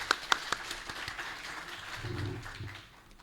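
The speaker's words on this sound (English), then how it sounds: "a huge round of applause for him as well" Audience applause greets a speaker introduced at a leadership summit, a broad wash of clapping with a few sharp individual claps up front, moderately loud and thinning toward the end, with a faint voice underneath.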